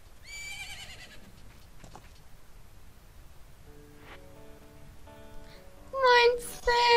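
A horse neighs in the Zelda Majora's Mask video game, giving a loud whinny near the end after quieter game sounds and a short musical chime sequence.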